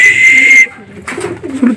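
A racing pigeon arrives at its home loft and coos in soft, low bursts close by. A thin, steady high whistle sounds before the cooing starts.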